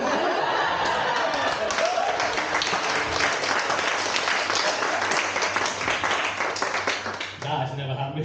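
Loud audience applause and clapping fill the room, mixed with scattered laughter and chuckles, tapering slightly near the end.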